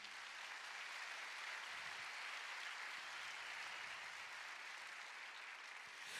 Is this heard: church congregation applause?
yes